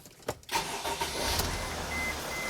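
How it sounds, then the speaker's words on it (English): A Mercedes Sprinter engine with a cylinder misfire and rough running is cranked briefly and catches, then settles into a steady idle close by. "So now let's start the engine and see what we got."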